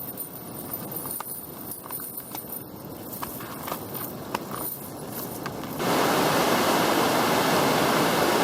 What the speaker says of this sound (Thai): เพราะมื้อนี้เขาปล่อยน้ำใหญ่กว่าเก่าเนาะ